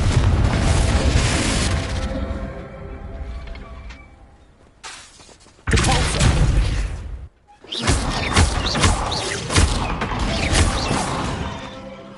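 Loud fiery spell blasts in Hogwarts Legacy: booming Confringo explosions and crashes in quick bursts, with rumbling debris and brief lulls between hits.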